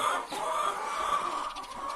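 Hens on a farm flock of about 360–370 birds cluck in a steady, dense chorus, close and continuous with no talking.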